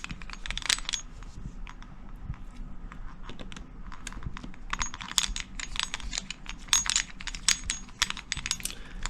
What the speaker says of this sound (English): Gonna pop these bolts off.